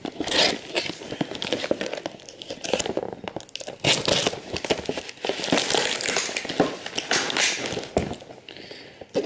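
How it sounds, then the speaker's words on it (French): A parcel being opened by hand, with packaging tearing and crinkling in loud, irregular bursts that go on throughout, close up, with no talking. "donc je vais ouvrir le colis"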